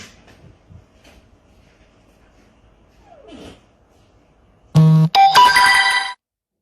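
A phone ringtone plays loudly in a bedroom, a bright electronic melody of repeating tones lasting about a second and a half, cutting in after quiet rustling and a faint murmur.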